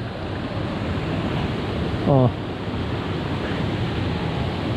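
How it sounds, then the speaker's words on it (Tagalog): Water overflowing at a resort and camp site in San Pablo, Laguna, spilling out toward a river as a steady broad rushing wash, with someone briefly speaking over it. "Tingnan nyo, umaapaw lang yung tubig oh."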